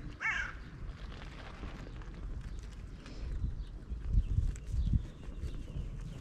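Crows gather to feed on chicken set out on a Sunday morning, a hawk nearby; a short harsh caw rings out near the start, then scattered faint calls and rustling over steady outdoor background noise.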